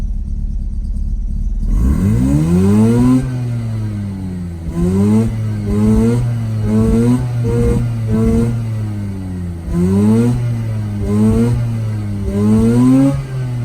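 A Suzuki S5 car engine at its first start idles, then free-revs repeatedly in several rising and falling sweeps, loud and close, with no talking.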